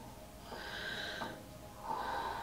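Deep circular breathing in the Wim Hof method, with a long airy inhale swelling and easing off, then another breath beginning, soft and close with no talking.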